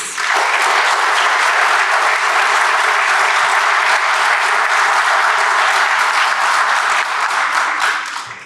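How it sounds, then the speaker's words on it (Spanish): Steady, dense applause fills a university seminar hall for newly elected women rectors. It is broad and sustained at an even level and tapers slightly at the end. "Pido un aplauso para ellas."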